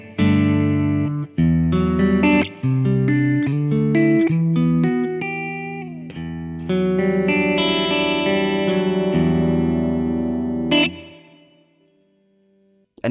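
Clean electric guitar run through a Boss Pocket GT with a lush, Lexicon-style modulated reverb: a melodic run of plucked notes and chords, each blooming into a shimmering, wavering tail that rings out and slowly fades at the end.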